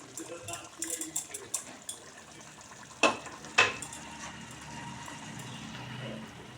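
Marinated chicken goes into a hot pan for korma: a run of soft clatters and splashes, then two sharp bursts of sizzle as pieces hit the oil, settling into a quieter fry.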